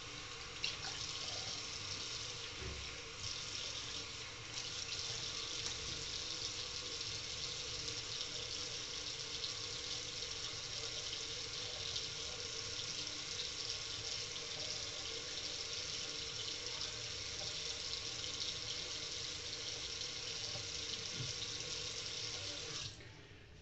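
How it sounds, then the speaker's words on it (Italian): Cold water runs steadily from a tap into a sink for face rinsing, a continuous close rushing stream with faint irregular splashes, and no voice is heard. "andiamo a sciacquarci, andiamo con acqua fredda"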